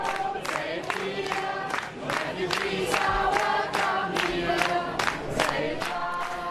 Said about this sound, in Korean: 5일 독일 살펠트 주민들이 기차역에 내리는 난민들에게 환영 노래를 불러주는 것을